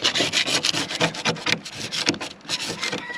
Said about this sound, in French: on gratte toute la couche de silicone, on nettoie et on recolle la plaque par-dessus